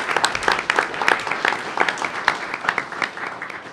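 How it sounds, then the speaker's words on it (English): At a school board meeting, attendees applaud a K-8 student who placed first in the regionals, a moderate group of hands clapping with distinct individual claps audible through the steady applause. "Let's give a round of applause"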